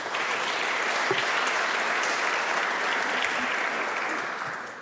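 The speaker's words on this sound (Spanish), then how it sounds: "Un fuerte aplauso." A seminar audience on environmental justice in Chile breaks into sustained applause, a dense, even roar of clapping that holds steady for several seconds before beginning to taper.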